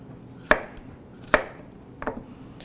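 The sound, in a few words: Damascus steel chef's knife chopping vegetables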